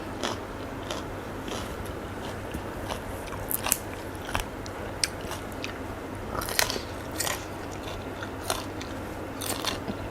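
Someone eating Thai papaya salad with fermented crab, blanched fresh shrimp and apple snails, giving scattered faint crunchy bites and chewing clicks over a low steady background hum.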